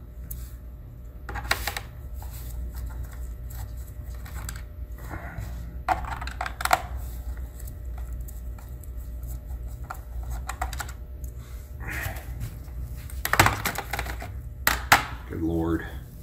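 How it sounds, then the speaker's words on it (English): Screws being backed out of a dirty laptop caked in nicotine and gunk to free its bad hard drive, with scattered small clicks, taps and scrapes arriving in irregular bursts close by. "I'm going to get these screws out here so I can remove the hard drive"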